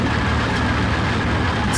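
The engine of a Hurricane fighter in a flight simulator game, struggling and running rough, drones as a loud, steady, unbroken roar throughout.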